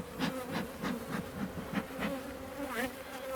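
Honey bees at an opened brown hive during an inspection as frames are fitted back together, a dense continuous buzz with pulsing swells, close and fairly loud, no talking.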